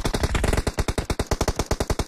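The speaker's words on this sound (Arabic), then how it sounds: "ابو عمر يطيح طلقة" Automatic gunfire in PUBG Mobile, a fast sustained burst of sharp, loud shots at close range, dozens of rounds in rapid even rhythm with no talk over them.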